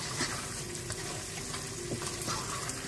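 Meat fries with ground ginger in a pot, a steady, close sizzle with occasional stirring scrapes and spatters, heard alone.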